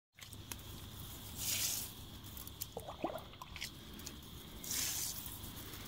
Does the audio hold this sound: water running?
yes